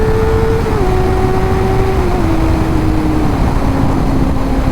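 A Kawasaki ZX-4R sport bike engine runs loud and steady at high revs. Its whining tone steps down gradually through several shifts, heard up close with wind roar and no talk.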